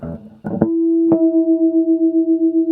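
Two plucked guitar notes ring together, producing a steady, pulsing wavering as the slightly mistuned strings beat against each other, close and clear.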